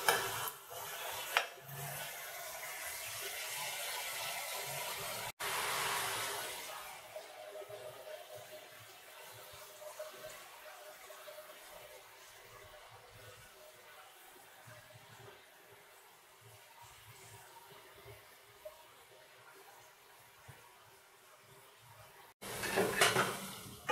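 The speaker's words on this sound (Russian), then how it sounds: "Равномерно помешиваем каждые 2 минуты и смотрим на приготовление моркови и лука." Carrots and onions being stirred in a kazan on a stovetop, a steady faint sizzle with scattered spoon scrapes and light metallic clinks, louder clatter at the start and end.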